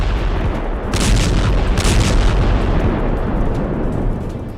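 Israeli strikes in Lebanon, near south Beirut, rumble as heavy explosions, with deep booming bursts swelling around the first and second seconds over a continuous loud low roar.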